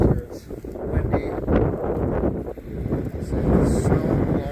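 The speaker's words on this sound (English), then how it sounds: "It's windy." Strong blizzard wind gusts outdoors while blowing snow, buffeting the microphone with a loud, continuous low rumble that surges and eases throughout.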